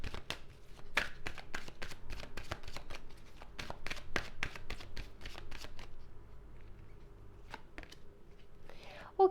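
Tarot cards being shuffled and handled at close range, with a steady run of crisp riffling slaps and flicks, then a few separate snaps as individual cards are drawn near the end.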